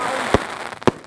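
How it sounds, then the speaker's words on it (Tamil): Raveendras brand Rock and Roll firecracker from Sivakasi going off outdoors, two sharp loud bangs about half a second apart over a crackling hiss. "எவ்வளோ டக்குனு நிறைய வெடிக்குது ஒரே இதில்"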